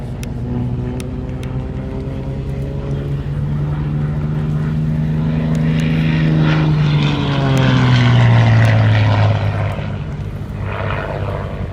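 An XA42 propeller aerobatic aircraft flying a hammerhead and slow rolls along an airshow display line, its engine droning loud and steady, the pitch swooping down sharply as it dives, with no voices.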